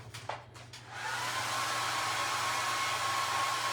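A hair dryer blows steadily on a freshly painted egg carton. After a brief moment of quieter handling it kicks into a loud, close, continuous whooshing whir that holds without a break.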